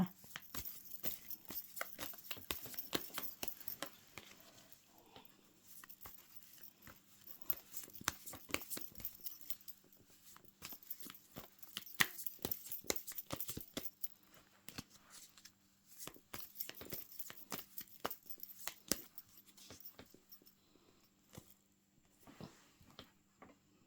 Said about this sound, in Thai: ขอเป็นตัวแทนสับไพ่ตัดไพ่ให้คนเกิดวันอาทิตย์ค่ะ